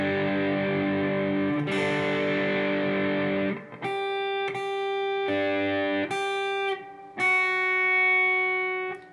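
The guitar intro to a song, played slowly on electric guitar: a long ringing chord, then a series of separate sustained notes and chords with brief gaps between them, played alone with no talk.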